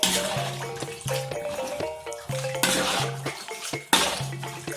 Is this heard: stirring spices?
yes